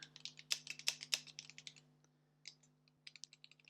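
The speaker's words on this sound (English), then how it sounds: "let's type in some stuff here." Fast typing on a computer keyboard hooked to a Z80 terminal setup, with a rapid run of crisp, close key clicks, a short pause, then a few more scattered keystrokes over a low electrical hum.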